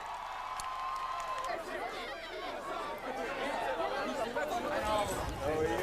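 A dense crowd gathered around a celebrity at the Cannes film festival, with steady overlapping chatter and excited voices close by and filling the whole stretch, growing a little livelier toward the end.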